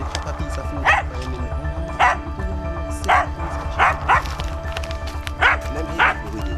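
A dog barks repeatedly in short, sharp yips at roughly one-second intervals over a steady low hum, fairly close, with occasional background voices.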